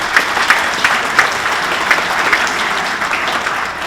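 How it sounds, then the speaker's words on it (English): An audience at a sports hall of fame induction ceremony applauds the tourism and sports commission board members, a steady, dense wash of clapping from a sizable crowd that holds even throughout, with no speech over it. "Please give them a big round of applause for what all they do for us."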